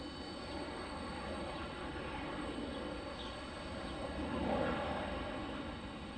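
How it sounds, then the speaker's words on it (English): A Boeing 717 jet uses reverse thrust while landing at Detroit Metro Wayne airport. The broad, faint roar is heard from a distance, holds steady, and swells slightly toward the end. "The old reverse thrust on the 717 like the MD-80."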